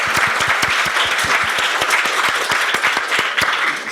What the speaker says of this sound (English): let's give everyone a round of applause for their dedication